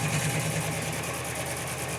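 A 24-inch stump grinder engine runs under load while cutting into a stump: a steady, fairly faint mechanical drone with no pauses and no talking.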